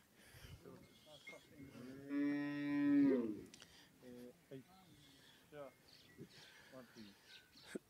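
A cross-breed cow at a cattle sale in Punjab, Pakistan lets out a single loud, drawn-out moo close by, with people talking before and after it.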